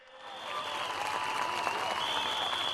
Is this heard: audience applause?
yes